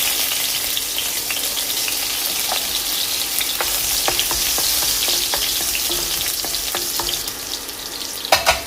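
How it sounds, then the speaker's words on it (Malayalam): Chopped garlic sizzles steadily in hot coconut oil, a dense close frying hiss with scattered light clicks and taps from stirring, and no voices. "അരിഞ്ഞു വെച്ച വെളുത്തുള്ളി ചേർക്കാം."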